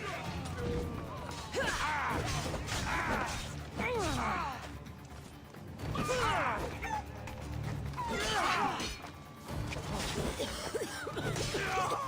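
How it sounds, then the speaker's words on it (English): Chicken in Assassin's Creed Odyssey squawking and clucking in repeated agitated bursts, fairly close, amid scuffling combat noise with someone talking intermittently over it. "This chicken is ambushing me?"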